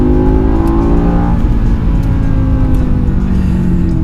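A 6-speed manual BMW M5 E60 engine revs loud and close, a steady deep roar held for the whole stretch with no voices.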